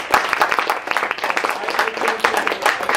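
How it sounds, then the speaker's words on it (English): Audience clapping for the Krampus Choir at a salon gathering, a dense, steady round of many hands filling the space throughout, with a voice briefly audible. "Let's give them another round of applause."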